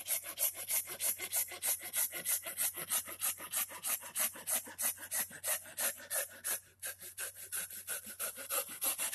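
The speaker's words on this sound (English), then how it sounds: "now I'm going to do just the sawing" A pull saw cuts through a raw wooden spoon blank in quick, even back-and-forth strokes, roughly thirty rasping pulls recorded up close. There is a short hitch near the end before the rhythm picks up again.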